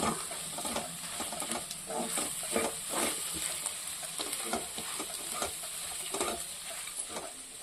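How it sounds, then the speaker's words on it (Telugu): Salt, chili powder, turmeric and coriander powder fry in hot oil for mutton keema curry, a continuous sizzle broken by repeated scraping stirs every second or so, close and moderately loud. "ఉప్పు కారం పసుపు ధనియాల పొడి ఇవన్నీ కొంచెం ఆయిల్లో ఫ్రై కావడానికి ఛాన్స్ ఇస్తున్నాం"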